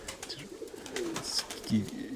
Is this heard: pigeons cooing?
yes